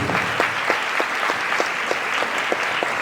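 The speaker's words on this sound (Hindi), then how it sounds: "हालेलुया, ताली बजाकर धन्यवाद।" Rhythmic hand clapping from a church congregation, about two claps per second, steady and fairly loud, with no voices.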